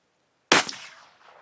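A 5.56 rifle fires a single loud, close shot outdoors in freezing Alaskan early winter; a sharp crack is followed by a short fading echo, with no talk.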